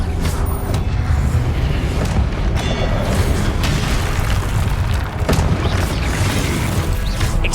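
Confringo explosion spells going off in the Hogwarts Legacy game, a loud dense run of booms and crashing bursts that overlap continuously with no pause.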